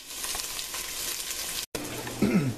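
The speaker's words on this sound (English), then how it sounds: "while the onions and bell pepper cook" Onion, garlic and bell pepper sizzle steadily in a hot pan, a dense close frying hiss with a brief break, then stirring and a short low voice-like sound near the end.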